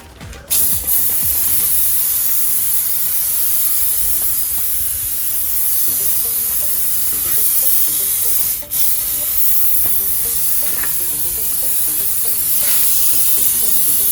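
A pressure foam sprayer blasts foam wash onto a vehicle at home in a loud, continuous hiss, with faint mechanical clicks and a brief break partway through.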